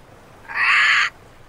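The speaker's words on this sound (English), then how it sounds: "Oh, there's the bird" A single bird call from the Nancy Drew game Ransom of the Seven Ships, one smooth, clear hooting note of about half a second, fairly loud and alone against a faint background.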